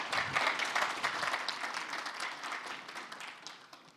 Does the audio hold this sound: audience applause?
yes